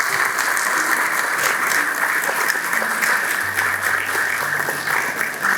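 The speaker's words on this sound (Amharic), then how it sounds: "ለ30 ሰከንድ እስኪ አጨብጭቡላችሁ።" An audience at a book launch applauds in a steady, dense burst of clapping that continues without break throughout, with no talking over it.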